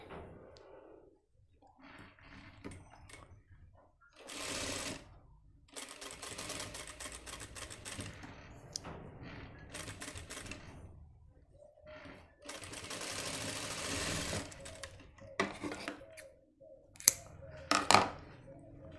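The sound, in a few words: sewing machine stitching edge of pant back pocket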